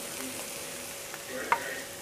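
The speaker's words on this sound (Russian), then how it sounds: "И вот так прям горячим маслом, блин, как показать-то, выливаем в салат." Hot oil poured over Korean-style carrot salad, giving a soft steady sizzle at low level with a brief sharper crackle near the end.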